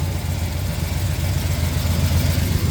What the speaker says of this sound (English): I like this exhaust. It's a little bit aggressive, but not too loud.